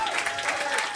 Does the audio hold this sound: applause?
yes